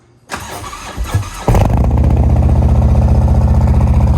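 A Harley-Davidson M8 motorcycle engine with a modified cam cranks a few times, then fires up at about a second and a half into a loud, steady, throbbing idle up close.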